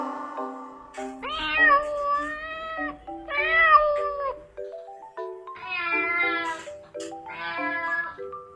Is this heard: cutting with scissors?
no